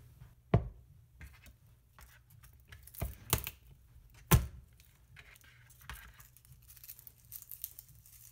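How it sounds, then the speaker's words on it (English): A knife dices a garlic clove on a cutting board for a sheet pan dinner, giving a few sharp, sparse chops with faint tapping and light rustling between them, close and fairly quiet. "I'm going to dice up a garlic clove"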